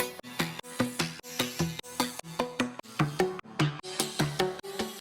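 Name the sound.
Wavetable synth arp with delay, reverbs and auto filter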